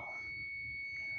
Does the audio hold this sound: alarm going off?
yes